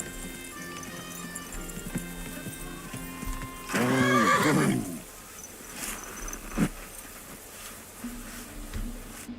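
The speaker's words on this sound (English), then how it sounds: "Watch out with that horse." A horse in the medieval game Kingdom Come: Deliverance gives one loud, close whinny lasting about a second, over a soft ambient bed with crickets and a few hoof clops.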